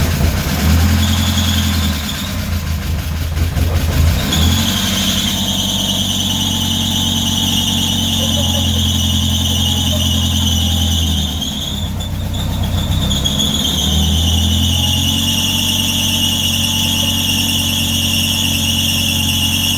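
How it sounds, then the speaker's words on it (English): A 1983 Porsche 944 engine runs with a loud, sustained high-pitched belt squeal over its idle, dipping briefly twice before steadying, close and without speech. "it's a belt squeal on"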